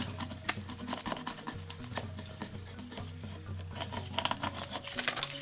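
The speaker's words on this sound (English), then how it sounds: "then we take that backing piece and then we burnish it" Transfer tape backing being burnished onto a wooden charcuterie board, a continuous close scratchy rubbing in repeated strokes, with no talking.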